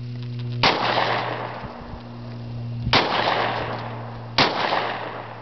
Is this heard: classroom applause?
no